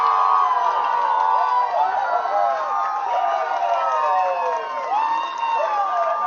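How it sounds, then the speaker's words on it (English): Distant crowd at a nearby youth 10U baseball field cheering and whooping after a home run, a steady wash of voices with children shouting, heard from across the park throughout. "Looks like a home run over there on the 10U field. That's what all the cheering's about."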